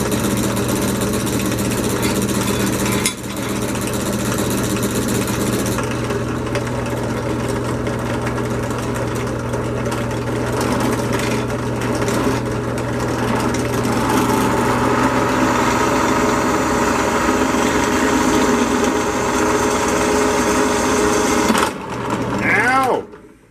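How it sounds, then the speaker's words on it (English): Continuous high-pitched whine of a drill and die grinder working metal while making a knife, sustained for a long stretch with brief interruptions, loud and close. "I'm going to drill a couple holes, and then I'll die grind out"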